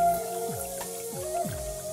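Hands being washed at a wash basin: trickling water with a few soft drips and splashes, close and moderately loud, with no talk.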